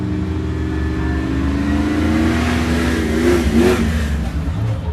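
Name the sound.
1991 Jeep YJ with LS 6.0 engine racing off the start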